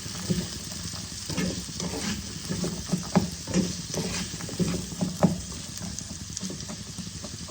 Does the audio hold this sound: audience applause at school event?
no